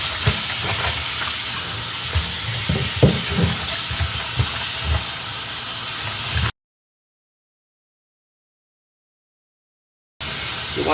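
Room-temperature tap water runs steadily over bok choy leaves being rinsed in a sink, a continuous hissing splash with occasional handling knocks, then cutting out into silence before resuming briefly.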